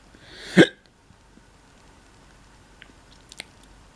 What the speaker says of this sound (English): or if it's the fact that I have hiccups.